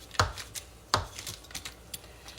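A knife chops cheese on a cutting board while enchiladas are prepared, with two sharp cuts standing out among several softer taps, close by and fairly quiet, no talking.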